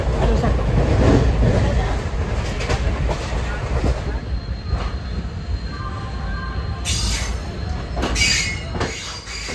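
Passenger train bound for Tirupati running along the rails, a steady loud rumble of wheels with squeals and rattling throughout, plus brief metallic screeches near the end.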